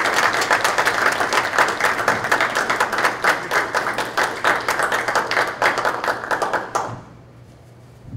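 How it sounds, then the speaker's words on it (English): A school board meeting room breaks into a round of applause, many hands clapping steadily for about seven seconds before it stops abruptly, leaving a quiet room hum. "Please join me in a round of applause as a sign of appreciation for this fine man"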